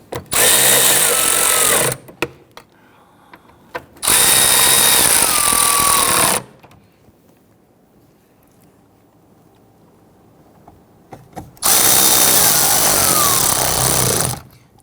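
A power drill snugs down the intake manifold bolts on a 2011-2015 Kia Sorento. It makes three loud whirring bursts of about two seconds each, separated by quiet gaps, with no speech.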